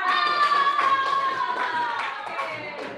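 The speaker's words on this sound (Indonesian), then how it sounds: "Kasih tepuk tangan." Clapping hands from a class of students fills the room, loud and steady for about three seconds, with children's voices chanting along in sustained tones.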